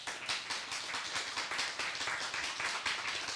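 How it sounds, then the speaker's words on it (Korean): An audience at a church worship lecture in Korea claps for its elderly members, with quick, evenly spaced claps forming a steady rhythmic pattern at moderate loudness. "그분들을 향해서 큰 박수 하겠습니다"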